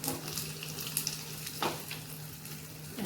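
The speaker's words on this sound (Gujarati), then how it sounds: "સૂકા લાલ મરચા અને લીલો લીમડો, થોડીક હિંગ અને આપણે એને હલાવી લઈએ મિક્સ કરીને" Dried red chillies, curry leaves and asafoetida sizzle in hot oil for a dal dhokli tempering, a close, steady crackling fry with a couple of brief stirring clinks.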